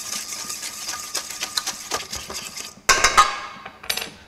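A soy sauce marinade with Chinese five spice, chili flakes, salt and sugar being stirred, producing quick, rhythmic scraping and clinking of a utensil against a bowl, close and fairly loud, with a sharper clatter toward the end.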